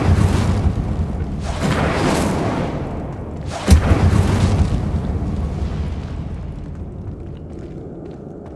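Incendio fire spell cast in the Hogwarts Legacy video game: loud roaring, whooshing bursts of flame with a sharp cracking blast midway, then a long rumbling fade.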